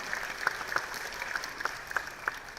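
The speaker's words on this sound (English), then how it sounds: "Let's give them another huge round of applause." Audience at a school's annual day applauding students, with scattered distinct claps standing out over a soft crowd murmur at moderate distance.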